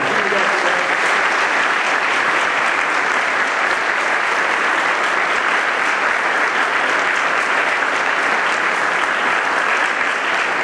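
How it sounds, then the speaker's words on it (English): A loud, sustained round of applause for a college board of trustees fills a large hall, dense, even clapping from a big audience that holds steady throughout without pause. "I want you to give them a rousing round of applause."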